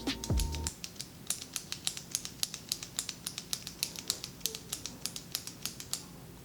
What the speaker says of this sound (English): Why are you clicking your pen?